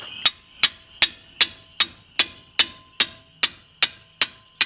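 A wrench works the brake caliper bracket bolt on a 2012 Subaru Legacy, giving a steady series of about a dozen sharp metallic clicks, evenly spaced and close.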